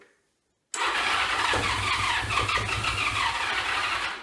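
A 1982 Honda Goldwing motorcycle with dry carburetors cranks after a moment of silence, a steady loud starter whir that churns on without the engine catching.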